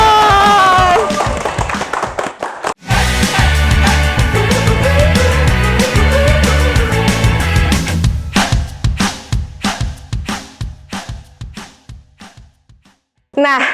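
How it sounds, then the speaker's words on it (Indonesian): An audience at a small-business digital tools event claps for the UTEPOS product over loud, busy background sound, with the clapping thinning into scattered, decaying claps before a sudden loud return at the end. "Tepuk tangan sekali lagi buat"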